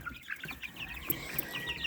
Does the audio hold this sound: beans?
no